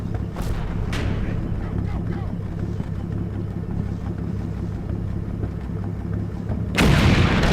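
Artillery in the Combat Mission: Final Blitzkrieg war game fires for effect, with a low steady rumble, a couple of faint sharp reports, and a louder burst of blasts near the end, under a voice talking.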